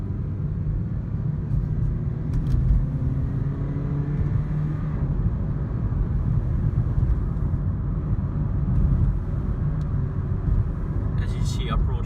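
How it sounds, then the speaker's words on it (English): A 2006 Honda Civic coupe pulls away under acceleration, a steady low engine drone and road rumble rising smoothly from inside the cabin, with a brief clatter near the end. "I'm gonna accelerate to give you an idea about the speed on it."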